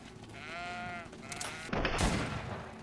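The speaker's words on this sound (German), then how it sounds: "Was ist jetzt denn hier für komische Schafe?" Sheep bleating in the fantasy game GreedFall, a wavering nasal bleat followed by a shorter second call, then a sharp burst of noise, all fairly close and clear.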